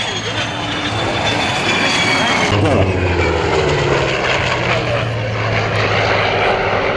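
A de Havilland Vampire jet aircraft roars past in a loud, continuous flyby, the engine tone shifting as it passes overhead.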